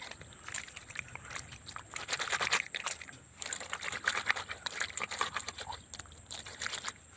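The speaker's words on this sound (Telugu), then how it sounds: "నీళ్ళు పోసుకొని ఫ్రెష్గా కడుక్కోవాలి." Water is poured over freshly caught, scaled Catla fish to wash them, giving intermittent close sloshing and trickling splashes in short bursts over several seconds.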